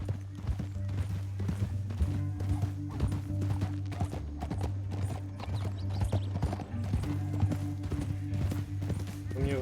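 Horse hooves from Red Dead Redemption, a steady rhythmic clip-clop of galloping close by over several seconds, mixed with a low droning game soundtrack.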